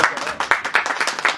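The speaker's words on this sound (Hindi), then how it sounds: "ताली पर जोरदार हो जाए, इतने ज्यादा लोग हैं।" Crowd applause at a film trailer launch event, a brief, fairly loud burst of many hands clapping in an uneven patter with a faint voice underneath.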